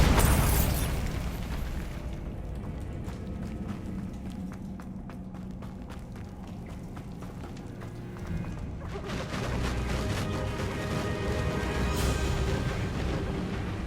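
A Bombarda blasting spell explodes in the Hogwarts Legacy video game, giving a loud, dense burst that rings out at the start and then settles into a sustained rumbling wash of debris and game ambience.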